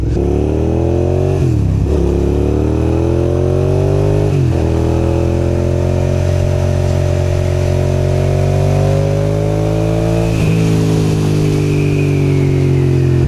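A Suzuki SV650 motorcycle engine drones steadily while riding, with exhaust tone rising and dipping across gear changes, loud and close with wind noise throughout.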